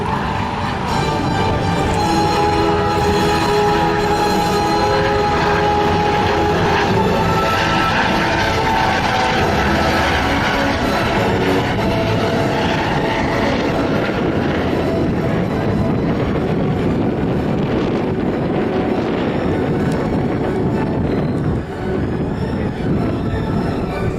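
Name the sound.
Coast Guard helicopter flying past at airshow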